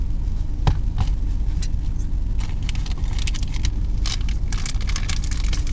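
A very long empty freight train rolls past up close in a continuous loud rumble, with rattling, clanking bursts from the passing cars and no speech.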